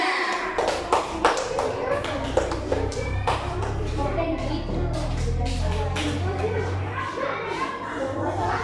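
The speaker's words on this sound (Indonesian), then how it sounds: "Oke, tepuk tangan untuk kelompok 3." A classroom of children claps for a student group after its presentation, a dense run of hand claps that continues throughout with young voices chattering underneath.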